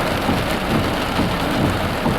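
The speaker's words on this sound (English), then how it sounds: "It's coming, it's pouring." Heavy rain pouring down in a thunderstorm under a tornado watch with hail, a loud, dense, continuous wash of noise close by and steady throughout.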